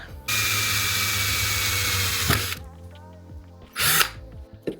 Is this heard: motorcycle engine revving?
no